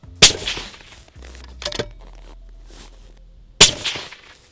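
.375 CheyTac rifle shots fired at a shooting range: two sharp, loud cracks about three seconds apart with a sharp clang between them and quiet rustling in the gaps.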